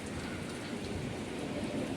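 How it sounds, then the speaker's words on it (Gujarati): Heavy rain pours down during a strong windstorm in Gujarat, a dense, steady roar of rainfall and gusting wind that stays loud and unbroken throughout, with no voices. "ફૂલ વાવાઝોડા સાથે વરસાદ ચાલુ થાય છે"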